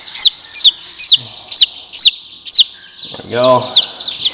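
Day-old Barred Rock and Buff Wolverhampton chicks, all females, peep in a regular series of high, bright chirps close by, followed by a short spoken remark near the end.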